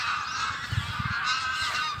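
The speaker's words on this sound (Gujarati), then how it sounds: "જ્યાં નીરવ શાંતિમાં માણીશું આ પક્ષીઓને અને તેમના કલરવને" Waterbirds at Thol Lake bird sanctuary in Gujarat give a steady chorus of nasal, goose-like honking calls, several overlapping at moderate distance with no talking.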